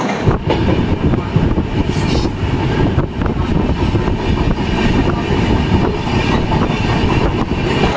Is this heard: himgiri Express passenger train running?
yes